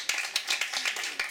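Audience claps for a keyboard player at a live band performance at Tiehua Village, Taitung: a short, moderately close run of uneven clapping with distinct individual hand claps.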